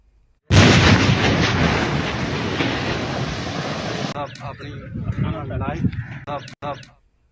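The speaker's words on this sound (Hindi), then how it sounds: "हेड कादिराबाद के करीब शगाफ डालने के लिए छोटा धमाका किया गया" A sudden loud blast from a controlled explosion breaching a dam near Head Qadirabad during Punjab flooding erupts into a sustained roaring rumble, then people talk over the fading noise.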